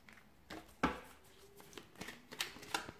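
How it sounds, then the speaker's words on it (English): Tarot cards are shuffled by hand, a quiet series of soft riffling snaps and taps at an irregular rhythm, close by and without talk. "give the cards a shuffle"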